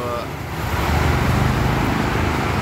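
Buses pass on the Jakarta–Cikampek toll road at KM 18, a loud, close roar of traffic and engine noise swelling and holding steady.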